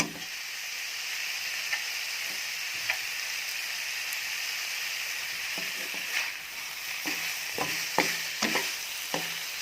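A filling for Vietnamese spring rolls is stir-fried in a pan. It sizzles with a steady hiss, and a spatula taps and scrapes now and then, more often toward the end.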